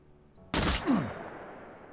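A single sharp taser round fires in the game SCUM, a sudden loud crack followed by a short decaying tail, after a quiet start.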